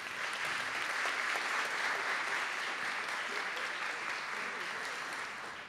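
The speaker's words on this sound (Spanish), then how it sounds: "Para los dos, el aplauso de todos los presentes." Sustained audience applause at a secondary-school graduation ceremony, a dense steady wash of many hands clapping at an even level for several seconds before easing slightly at the end.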